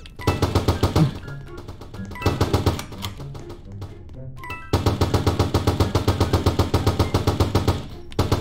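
Rapid automatic gunfire in a GTA 5-style Roblox game, loud bursts of evenly spaced shots with a brief lull and scattered single rounds before a long sustained burst.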